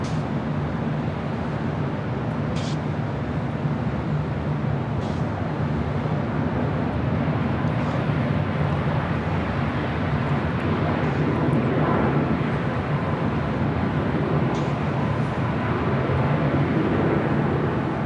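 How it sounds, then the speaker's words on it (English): Finnair Airbus A350-900 jet at Los Angeles LAX airport, a steady, broad engine roar that holds loud and continuous throughout with no voices. "Finnair Flight 2, A350-900, heading back to Helsinki."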